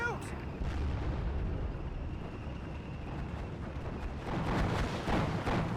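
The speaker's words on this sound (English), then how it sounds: "But my mortars are firing away." Mortars firing in the WWII strategy game Steel Division: Normandy 44, muffled booms and rumbling battle noise that hold steady and swell near the end, with a voice talking over them.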